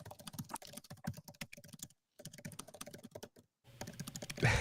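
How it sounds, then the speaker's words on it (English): Rapid typing on a computer keyboard in a studio, a dense irregular patter of key clicks with a couple of short pauses, close and fairly clear. "Somebody's typing away."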